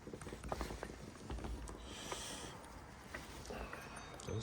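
A chainsaw with no air filter or clutch cover and a patched-up muffler is pulled over by hand, giving a series of close mechanical clicks and ratcheting rasps with some resistance, alone without talk.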